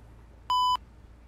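A single censor bleep, a pure steady electronic tone lasting about a quarter second, sounds loud and clean against near silence.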